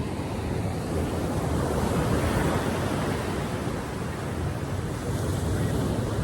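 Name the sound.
sea waves at Ciwidey beach, South Cianjur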